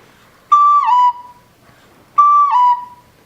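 On a wind instrument, a tongued D slurs down to B, played twice: each phrase starts with a clear attack, holds briefly, then glides smoothly to the lower note, with a short silence between the two.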